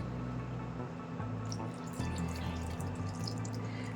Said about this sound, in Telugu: పాలు యాడ్ చేసుకుందాం.